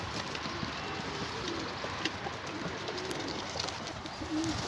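Soft, low pigeon coos repeat a few times against a steady background hiss, fairly close, with no talking.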